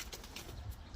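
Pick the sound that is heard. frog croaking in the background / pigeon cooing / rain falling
pigeon cooing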